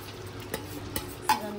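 Tomato puree is stirred in a frying pan while making restaurant-style chicken korma, with faint scrapes and a few soft utensil clicks over a low sizzle.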